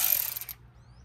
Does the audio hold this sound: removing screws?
yes